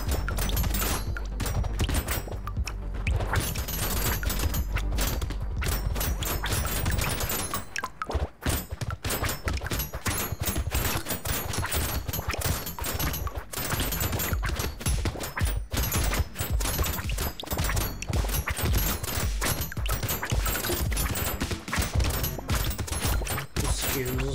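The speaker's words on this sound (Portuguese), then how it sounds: "Malditos tiros." Rapid, dense gunfire from the twin-stick shooter Brotato fills the whole stretch, a continuous loud barrage of shots with game music and effects, briefly thinning around the middle before resuming.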